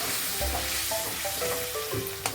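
Water poured into a pan of softened tomatoes sets off a loud, close burst of sizzling and bubbling, with brief clinks and stirring noises over the short stretch.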